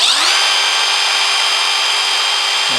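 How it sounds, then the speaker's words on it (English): A Milwaukee M12 FUEL 1/4-inch hex impact driver spins in drill mode, a loud steady high-pitched motor whine that ramps up quickly and holds constant before winding down at the end. "So if we go to drill mode"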